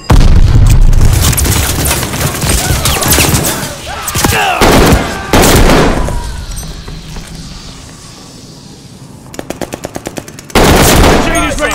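Glide bomb strike in Call of Duty: Vanguard amid heavy combat: loud booming blasts mixed with bursts of rapid machine-gun fire and scattered gunshots, close and intense, with brief lulls between volleys.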